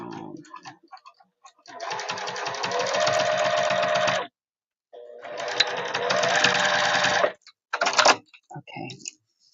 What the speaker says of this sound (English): And I do run a back stitch.